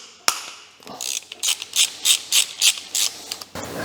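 A ratchet with a 14mm socket loosens the timing belt tensioner on a Mazda MX5 engine: one sharp knock, then a steady run of about nine clear ratcheting clicks, close and distinct.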